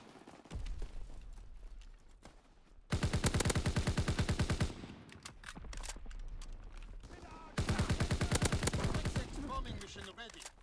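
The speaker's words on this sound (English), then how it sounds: "Fighter aircraft ready for strafing run." Automatic gunfire from a fighter aircraft strafing run in the World War II shooter Call of Duty WWII, two long loud rattling bursts separated by quieter battle noise, with faint voices underneath.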